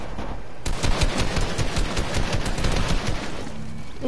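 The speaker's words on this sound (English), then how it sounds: "there's a sniper on me" Gunfire in the video game Apex Legends, including sniper fire, crackles in dense rapid bursts for several seconds, loud and continuous with overlapping shots.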